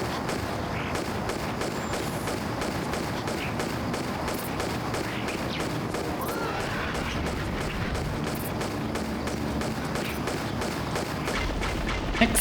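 Lara Croft firing her pistols in Tomb Raider Chronicles, set in Rome, a long rapid volley of sharp, evenly spaced shots cracking over a dense game background.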